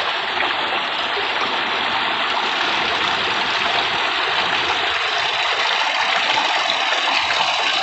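Water runs through an old mine launder, a wooden channel in a wooded Cornish valley, with a steady close rushing and gushing that continues without a break and without any talk.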